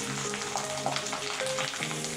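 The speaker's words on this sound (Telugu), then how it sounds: "నిదానంగా ఫ్రై చేస్తున్నా నేను, ఎందుకంటే అది చిక్కుతుంది." Kara boondi, small gram-flour drops, frying slowly in hot oil: a steady, dense sizzle with fine crackling, close and continuous, with no voices.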